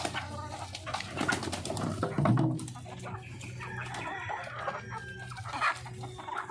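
Chickens cluck and a rooster crows amid a busy rural farmyard in Balaytigue, Philippines, with a dog and other birds faintly in the background.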